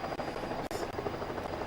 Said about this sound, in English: we can watch helicopters land,